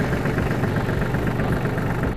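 A Farmtrac Atom 26 tractor engine idles steadily after starting, a close, loud diesel chugging with an even low rumble and no voices over it.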